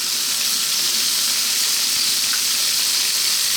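Garlic sizzles hard in a pan over very high heat, a loud, steady, unbroken hiss filling the whole stretch with no pauses and no voices.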